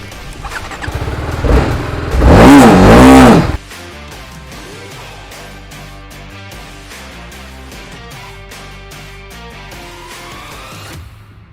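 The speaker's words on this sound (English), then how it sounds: "So let's get it on the road." A TVS Apache RR 310 BS6 motorcycle from 2020 revs loudly at first, then settles into a steady engine drone under layered background music.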